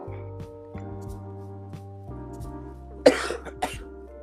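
A burst of coughing near the end, two rough harsh coughs over a steady low electronic hum and tones, no speech.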